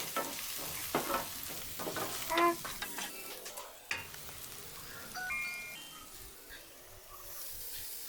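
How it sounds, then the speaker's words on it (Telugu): Onion and green chillies fry in a pan with a pinch of turmeric for a bhindi curry, a faint hiss with scattered spoon taps and stirring scrapes, no voices. "ఇది ఫ్రై అయిన తర్వాత చిటికెడు పసుపు వేసుకొని దీనిని మంచిగా ఫ్రై చేసుకోవాలి."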